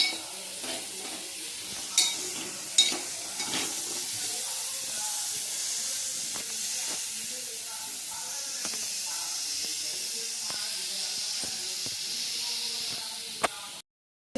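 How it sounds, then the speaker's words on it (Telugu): Onions and tomatoes frying and being stirred in an oiled pan: a steady close sizzle with hiss, broken by scraping stir clicks throughout, ending abruptly. "ఇందులో ఆనియన్స్, టమాటోస్ వేసుకొని ఫ్రై చేసుకోవాలి"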